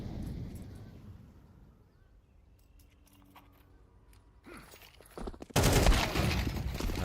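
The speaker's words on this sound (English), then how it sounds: "That's gonna be the nade to pop off into the corner." A grenade pops off in a Rainbow Six Siege European Pro League match: a sudden loud burst near the end, after a quiet stretch of scattered clicks and shuffling, with dense crackling noise holding steady afterward.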